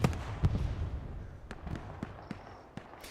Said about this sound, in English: And the gunfire begins.